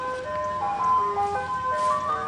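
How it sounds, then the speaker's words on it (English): Tinkling melodic chime tune of an ice cream truck playing over a low vehicle hum, fairly faint and a bit distant, with the notes stepping up and down continuously. "The ice cream truck."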